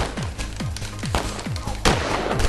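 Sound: gunfire in a shooter video game

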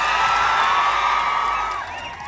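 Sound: crowd clapping and cheering for the film team

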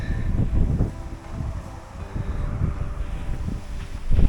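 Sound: wind

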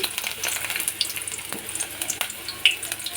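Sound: chopped onion frying in hot oil in a pan

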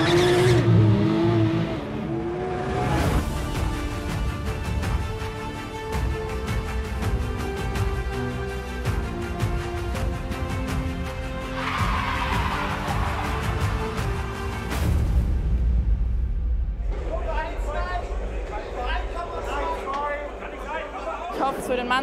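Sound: race cars at Nürburgring 24-hour race

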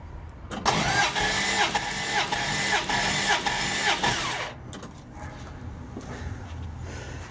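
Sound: Plymouth Duster 318 engine cranking over during compression test

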